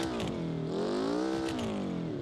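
A BeamNG.drive car engine drones steadily, its pitch rising and falling smoothly as it revs, loud and continuous with a faint clatter underneath.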